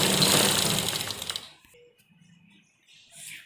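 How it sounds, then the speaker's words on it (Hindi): A sewing machine stitches the fabric of a one-year-old baby's frock, running loud and steady for about a second and a half before stopping, followed by quiet handling noises. "तो इस पर हम पूरी पर सिलाई चला देंगे।"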